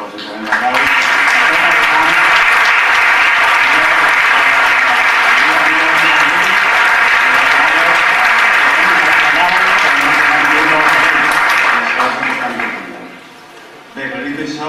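Loud, dense applause from a large crowd at a political campaign closing rally in Reus, holding at full strength for about twelve seconds before dropping off, with a voice resuming at the end.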